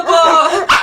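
A dog gives a single short, close bark that rises into a brief whine, loud, at night in a comedy skit.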